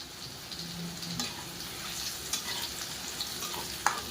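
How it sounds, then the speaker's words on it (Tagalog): Garlic frying in a pan, a steady soft sizzle with faint stirring scrapes and a couple of small clicks, close and fairly quiet, no talking. "Ilalagay na natin ang ating bawang."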